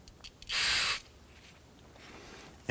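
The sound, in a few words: aerosol solvent spray onto a rag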